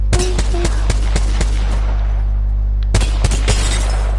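Rapid bursts from an R-301 carbine in the shooter Apex Legends: two clusters of crisp, closely spaced automatic shots separated by a short pause, loud and near over a steady low hum.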